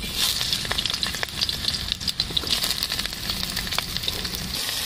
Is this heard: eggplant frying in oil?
yes